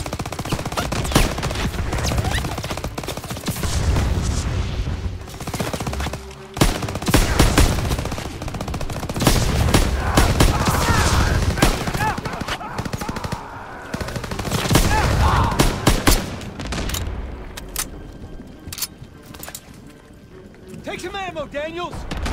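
Dense gunfire in a Call of Duty WW2 battle in the hills, rapid machine-gun bursts and single shots rattling almost nonstop, loud and close, with shouted voices mixed in.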